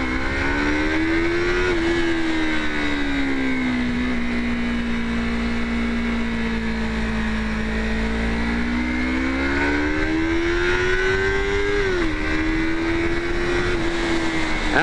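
A Yamaha MT-03 motorcycle revs and accelerates loudly for about fifteen seconds, its engine note climbing, dipping and rising again through gear changes, with wind noise throughout.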